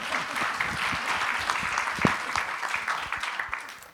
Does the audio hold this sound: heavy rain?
no